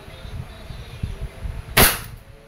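A single sharp crack from a Crosman SR 357 airgun revolver fired in single action, loud and close, following a quiet stretch with faint low rumbling.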